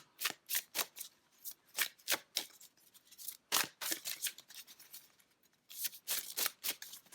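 Playing cards being shuffled by hand, a long run of quick, crisp riffling bursts in irregular clusters, close and fairly quiet with short pauses between rounds.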